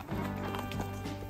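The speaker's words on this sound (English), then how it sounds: "Was that your first canter on Lupin, Em?" A Shetland pony on a hack out moves at a canter, quick rhythmic hoofbeats close by and fairly steady, with faint voices in the background.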